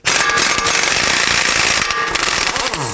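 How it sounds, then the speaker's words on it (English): A ratchet with a 30mm 12-point socket loosens the front axle nut on a 2018-2024 Toyota Camry, making a loud, dense run of rapid metallic clicks that continues steadily throughout with no talking. "Now we're going to use our 30mm 12-point socket to loosen and remove the axle nut."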